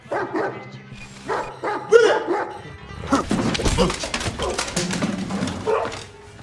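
A dog barks and yips repeatedly in a tense film scene set at a mafia hideout, with agitated voices and scuffling layered over the barking.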